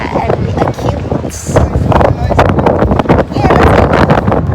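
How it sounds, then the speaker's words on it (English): Strong wind buffets the microphone at a beach, a steady loud rumbling roar throughout, with someone talking over it. "It's just that it's so windy, guys."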